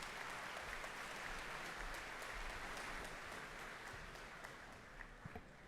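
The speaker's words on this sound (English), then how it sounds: "please all give the Premier a big round of applause again" An audience applauds the Premier of Ontario at a conference gathering; steady, soft clapping from a large crowd heard at a distance, sustained evenly before tapering slightly at the end.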